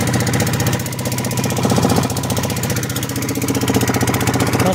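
A fishing boat's engine runs on open water during a monsoon outing, a steady close mechanical drone with fast regular chugging pulses and no voices over it.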